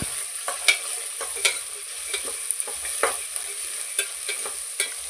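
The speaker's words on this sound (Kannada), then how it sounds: "ಟೊಮೊಟೊ ಮತ್ತು ಒಂದು ಮೀಡಿಯಮ್ ಸೈಜ್ ಈರುಳ್ಳಿನ ಇಲ್ಲಿ ಸೇರಿಸ್ಕೊತಿದ್ದೀನಿ ಸೇರಿಸ್ಕೊಂಡು ಚೆನ್ನಾಗಿ ಫ್ರೈ ಮಾಡ್ಕೋಬೇಕು" Chopped tomato and a medium onion fry in a pan with a steady bright sizzle, broken by regular scraping strokes of a stirring spoon, close and with no voices.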